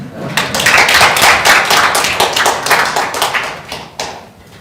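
Audience applause at a policy forum in a National Assembly seminar room, loud and close, a dense run of many clapping hands that gradually thins and fades toward the end.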